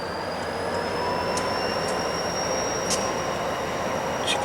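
NYS&W freight locomotive 3040 pulls away on street track in Utica, New York, with a steady rumble and high squealing wheels, plus a few faint metallic clicks through the constant noise.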